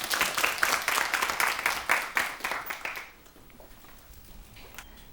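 A studio audience at a Korean TV storytelling show claps in dense, lively applause for about three seconds, then the clapping drops off sharply to a quiet room with a few stray claps.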